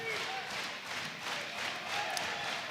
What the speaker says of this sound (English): Viking clap.